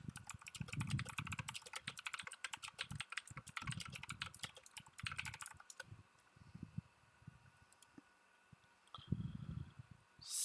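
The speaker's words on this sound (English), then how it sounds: "I was just typing on Discord." Rapid clattering keystrokes on a computer keyboard for about six seconds, then a few scattered taps, faint and close in a quiet room.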